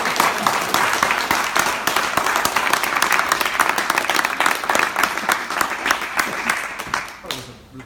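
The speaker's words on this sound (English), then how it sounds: "Can we have a round of applause?" Sustained audience applause fills a room after a diversity-in-tech panel discussion, dense steady clapping that tapers off near the end.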